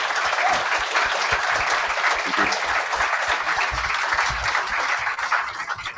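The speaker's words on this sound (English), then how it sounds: "Folks, I want to ask you to join me in applauding our speakers." A debate audience applauds the speakers, a loud, dense and continuous burst of clapping that holds steady throughout and thins slightly at the very end.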